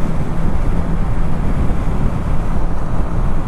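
Heavy, low, roaring wind buffets a rider on a 2018 BMW K1600 Grand America motorcycle at speed, a loud, continuous rumble with no pauses.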